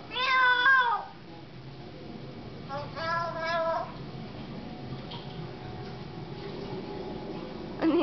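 A myna bird mimics a cat's meow, giving two bright, wavering meow-like calls close by, one at the start and one a few seconds later, against a low room background with a brief sound at the end.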